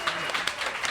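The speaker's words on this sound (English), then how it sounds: "Let's give him a massive round of applause." Audience applause for a guest author at a live book-discussion event, a short dense burst of many hands clapping at steady loudness, with some voice mixed in.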